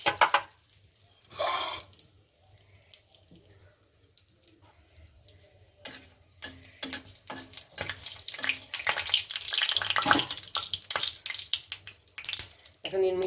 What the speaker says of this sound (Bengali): তেলটা আমার গরম হয়েছে, এর মধ্যে আমি দারচিনি, এলাচ, লবঙ্গ আমি ফোড়নে দিচ্ছি, সঙ্গে দিচ্ছি একটা তেজপাতা